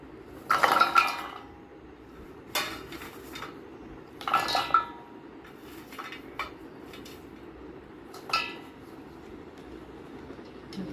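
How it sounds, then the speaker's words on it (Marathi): Garlic cloves drop into the plastic bowl of an electric vegetable chopper, giving several close, sharp clattering bursts separated by short pauses. "या लसूणच्या पाकळ्या मी त्याच्यात टाकते आहे."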